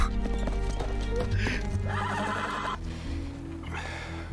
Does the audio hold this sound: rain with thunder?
no